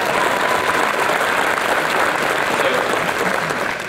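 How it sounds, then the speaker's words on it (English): An audience at a university spring commencement ceremony bursts into loud, sustained applause that fills the hall evenly, with a faint crowd murmur underneath. "let's give them a round of applause, but you guys already did"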